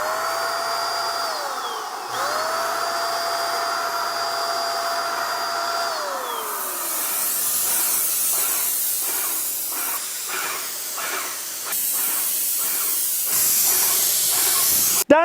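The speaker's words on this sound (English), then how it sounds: "I'm going to try out this Harbor Freight HVLP electric gun that I got a couple of years ago for painting the other room" A Harbor Freight HVLP electric paint spray gun whines steadily at first, then settles into a loud, broad hiss of spraying that runs in repeated bursts at close range, with no talking.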